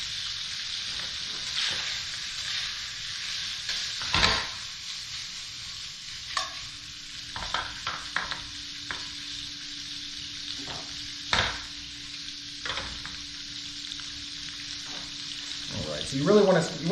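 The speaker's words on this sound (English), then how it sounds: "you really want to get a little caramelization on the pork belly" Pork belly sizzles and caramelizes in banh mi sauce in a hot pan, giving a steady frying hiss with occasional stirring clatter, close up and with no talking.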